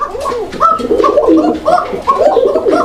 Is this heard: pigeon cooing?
yes